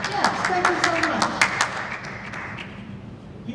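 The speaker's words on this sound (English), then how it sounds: "I got applause." Applause from a conference audience, a burst of scattered claps that fades over a few seconds while a speaker talks on top.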